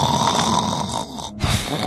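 A storyteller imitates sleeping giants snoring, giving a deep, rough, rumbling snore that runs loud and close and breaks off briefly before resuming.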